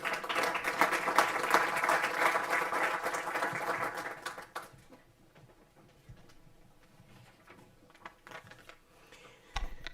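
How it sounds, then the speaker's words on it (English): Conference audience applauding as an MEP is welcomed, a brisk burst of clapping for about four seconds that dies away into quiet room tone, then shuffling and a light knock near the end. "I invite you to welcome her with your warmest applause."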